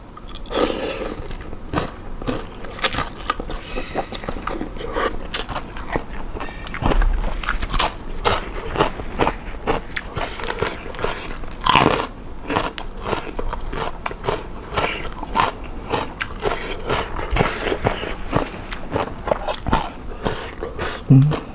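Someone eats khanom jeen rice noodles with braised pork leg and papaya salad with fermented fish sauce, giving continuous close chewing, biting and soft crunching, with a voice talking at times.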